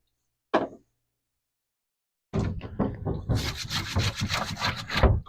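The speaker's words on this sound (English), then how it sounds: "what I'm going to do is I'm just going to scrub my carrot" Carrots scrubbed by hand in a sink with a little water: one brief scrape, then a pause, then a long, close stretch of continuous rough brushing and rubbing.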